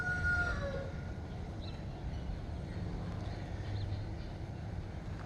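Brahma chickens outdoors on a windy morning, with a rooster crow near the start rising over steady, rumbling wind noise and faint scattered clucks afterward.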